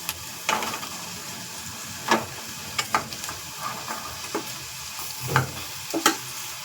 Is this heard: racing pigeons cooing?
no